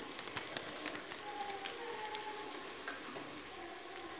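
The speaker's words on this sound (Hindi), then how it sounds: "अब इसमें हम लंबे कटे हुए टमाटर डाल देते हैं और इसको भी 2 मिनट भून लेते हैं" Sliced tomatoes frying in a pan with mutton masala, giving a steady, even sizzle and crackle with faint pops, fairly quiet and close with no talking.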